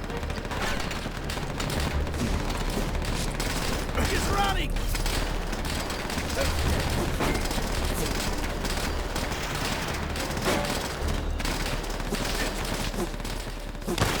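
Dense World War II gunfire fills a Call of Duty: World at War battle scene, sustained rifle and machine-gun bursts crackling throughout with mechanical clatter, while a voice calls out over the shooting.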